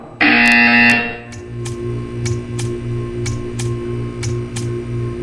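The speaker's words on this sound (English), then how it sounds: "You will hear a buzzer." A loud electronic buzzer from the video game Portal 2 blares for about a second, then a steady hum continues with a regular series of soft ticking pulses.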